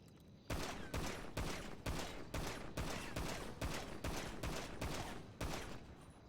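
Gunfire in the NoPixel role-play video game: about a dozen loud, evenly spaced shots fired at a target in a steady rhythm, each with a sharp attack and a short reverberant tail, with no talking.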